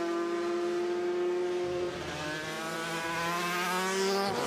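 Aprilia and Yamaha Grand Prix racing motorcycles at the Imatranajo road race, engines droning loud and steady close by, pitch sliding slightly as the bikes pass, no talk.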